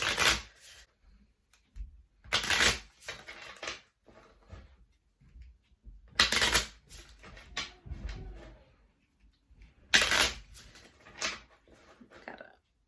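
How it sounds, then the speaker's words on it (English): Cards are riffled and shuffled in several quick bursts, each a crisp fluttering rush, separated by quieter handling noises close to the listener. "Okay, so I'm gonna shuffle a couple of times."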